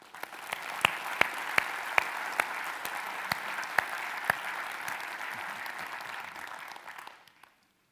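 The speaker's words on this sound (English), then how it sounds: "Can we please give them a round of applause?" Audience in an auditorium applauding steadily for about seven seconds, a dense wash of clapping with a few sharper individual claps standing out, then fading quickly to silence.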